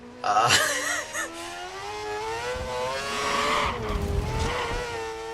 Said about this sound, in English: Car's really slidey.